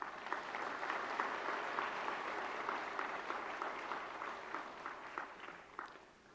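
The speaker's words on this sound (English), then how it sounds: "May I request all of you to welcome the President of India with a round of applause." Audience applause welcoming the President of India at a conference hall, a sustained round of steady clapping from a crowd, fairly distant and even, tapering toward the end.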